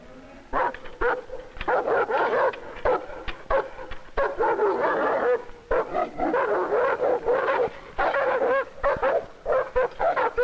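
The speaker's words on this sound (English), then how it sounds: "The dogs, our guard dogs, live in cages, in dog houses." Prison guard dogs kept in cages and fenced runs, several barking and yipping continuously in loud overlapping bursts with whimpers between, close and alone without talk.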